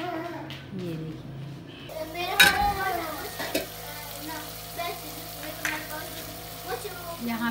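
Tadka for palak daal frying in a pan: a steady, soft sizzle with a sharp clatter of utensils against the pot partway through and a few lighter scrapes afterward.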